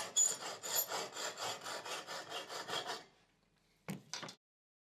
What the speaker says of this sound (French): Vous coupez ensuite le rail sur mesure avec une scie à métaux.